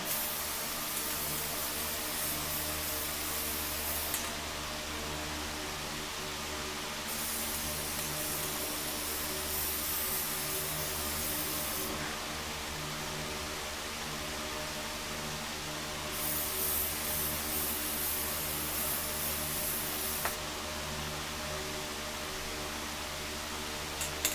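A spray paint can applies LV gray primer to a 1926 Lionel 136 rail, a steady close hiss running for long stretches with short pauses between bursts, no talking.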